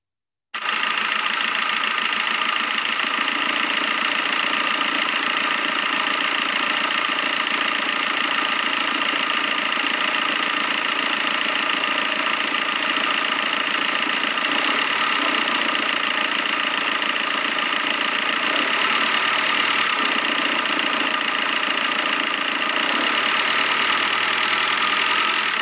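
Idling car engine with drive belt noise, a steady close mechanical hum with a continuous whirring, faintly ticking texture that stays even throughout, no voices.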